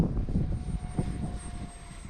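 An RC model Pilatus PC-21 1100mm airplane flies past with a steady, whining electric motor drone that dips and rises in volume, fairly close, with wind noise and no speech.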